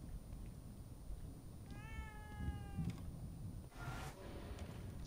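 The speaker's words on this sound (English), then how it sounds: "Oh, I hear an annoying cat." A cat in the video game The Evil Within 2 meows once with a clear, drawn-out call, then gives a shorter cry, heard over a low, steady game background.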